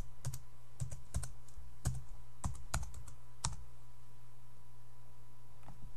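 Someone types a password on a computer keyboard, the key clicks coming in irregular bursts of close, crisp taps over a steady low hum, with no talking.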